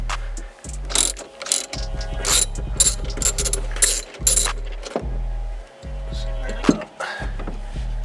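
A ratchet works a 10 mm battery terminal nut on a BMW 5 Series, giving close, repeated clicking strokes in quick rhythmic bursts with brief pauses between them.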